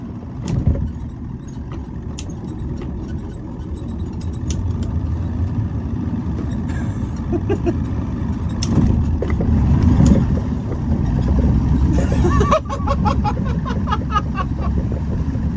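Outboard-motor boat driven on a private dam, engine droning loud and steady, building in strength toward the end with some splashing and a brief rise in pitch.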